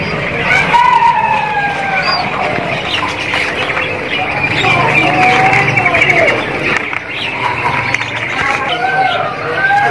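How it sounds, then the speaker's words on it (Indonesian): Dark-coloured loper canaries chirp and trill in a bird market kiosk, a busy overlapping stream of close, loud bird calls with indoor market noise beneath. "penampakan dari burung kenari loper yang warna gelap ya"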